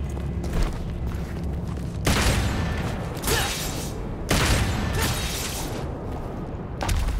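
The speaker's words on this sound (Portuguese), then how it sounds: "eu tenho que dar tiro nos dois daí" Gunfire in Devil May Cry 5, several heavy booming shots spaced a second or so apart, each followed by a decaying rumble over a continuous game soundscape.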